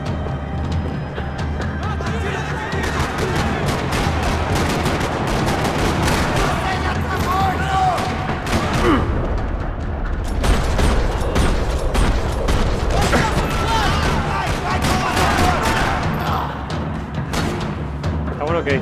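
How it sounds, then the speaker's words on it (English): Dense, continuous gunfire in a parking lot in the video game Max Payne 3 crackles and rattles throughout, with bursts and booms layered together and voices talking over the noise. "Another parking lot rattling with gunfire."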